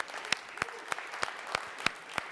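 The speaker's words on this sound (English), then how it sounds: "Let's give them a round of applause." Sparse, scattered handclaps from an audience at the Snapdragon Summit 2019 tech launch event, a few distinct claps spaced roughly every third of a second, fairly quiet and somewhat distant.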